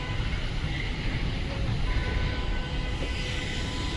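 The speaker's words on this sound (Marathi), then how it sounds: "आणि ती बघा इकडे ट्रेन चालली." A small children's amusement park train runs along a miniature track at Wonders Park, Navi Mumbai: a steady broad rumble and rattle of wheels and motor, moderately close, with outdoor background noise.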